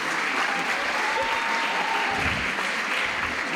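A crowd at a beauty pageant applauds the contestants, dense and continuous clapping from many hands at a steady level, with a faint murmur of voices beneath.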